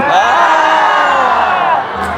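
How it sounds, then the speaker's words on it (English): An audience at the Monsters Inc. Laugh Floor show in Magic Kingdom, Walt Disney World, screams and cheers loudly together, a dense sustained crowd roar lasting about two seconds before easing slightly. "throw your hands up in the air and scream like this"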